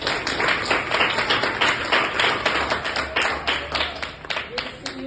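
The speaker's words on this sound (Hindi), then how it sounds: "मैं चाहती हूँ पहले सबसे भरपूर तालियां इनके बजाई जाए" Hearty clapping from a group of blind youngsters and guests at a Kashmir Day celebration, quick dense claps going on for several seconds with some talk mixed in.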